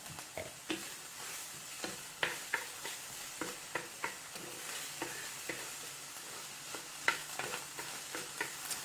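Curried kale sauteing in a pan gives a soft, steady sizzle, broken by regular clicks and taps of a utensil stirring against the pan, close and without voices.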